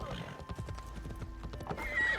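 Horse galloping in Assassin's Creed Shadows video game through snow, rapid hoofbeats in a steady rhythm with a neigh near the end, under speech.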